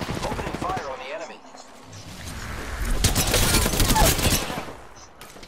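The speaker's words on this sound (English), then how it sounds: "Opening fire on the enemy." Rapid gunfire bursts out in a video game firefight, a dense rattling fusillade that swells loudest midway while a voice talks faintly underneath.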